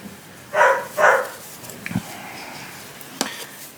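Two dog barks in quick succession from some distance, followed by a few faint knocks and a sharp tap in an otherwise quiet room.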